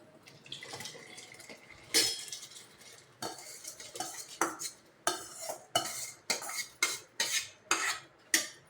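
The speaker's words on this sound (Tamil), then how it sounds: "இப்போ தண்ணி கொதிக்குது, நான் ரைஸ் போடுறேன்." A spoon stirs rice in a pot of boiling water for dhal rice, scraping in a quick train of sharp, regular strokes that grow steadier and closer together, with faint bubbling behind.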